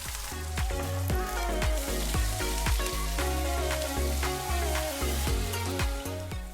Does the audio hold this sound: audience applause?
no